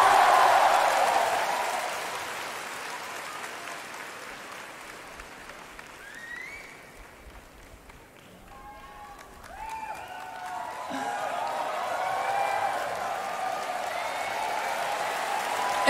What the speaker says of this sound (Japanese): 最後に大きな拍手で迎えてください。